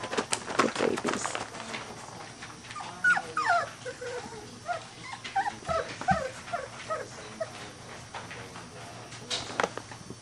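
Three-week-old puppies whimper and yip in a rapid, high, overlapping chorus close by, with a soft voice now and then.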